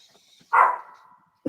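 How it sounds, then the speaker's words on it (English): A small dog, a pet at home during a late-night livestream, gives a single sharp bark, fairly close and loud, with a short tail afterwards and a brief bit of another sound at the end. "My dog just won't shut the heck up."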